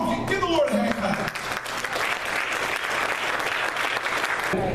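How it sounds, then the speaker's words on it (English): A church congregation claps hands for the Lord in a sustained burst of applause that follows a preacher's voice at the start and fills the rest of the moment. "give the Lord a hand clap"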